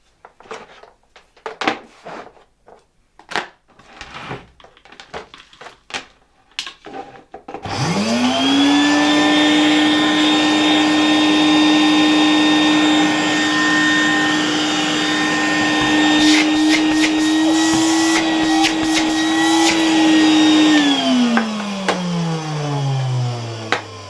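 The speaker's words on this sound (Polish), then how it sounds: "odkurzacz działa, ale działa bezpośrednio po włączeniu do prądu" A 1967 Alfa K2 vacuum cleaner with a faulty power switch gives several scattered clicks and knocks, then starts up with a rising whine. Its loud, steady motor drone holds for about fourteen seconds, then winds down as it is switched off.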